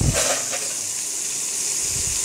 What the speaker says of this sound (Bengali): পটলটা একটু ভাজা ভাজা হবে।